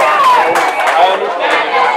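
Home crowd and student section cheering and yelling at a high school regional softball game after a two-out triple, a dense, loud, sustained roar of many voices throughout.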